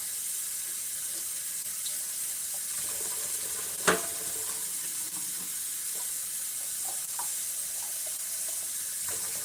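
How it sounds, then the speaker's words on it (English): Running tap water pours steadily into a sink while liver is rinsed under it, a continuous hiss with a single sharp knock partway through and faint handling splashes. "I'm just going to rinse it, actually. It's just liver."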